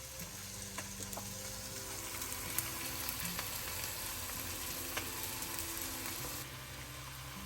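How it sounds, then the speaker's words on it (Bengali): Garlic and ginger masala frying in a pan makes a steady, soft sizzle throughout with a few faint clicks, close but quiet and with no talking. "মশলাটা কিন্তু একটু কষানো হয়ে গেছে,"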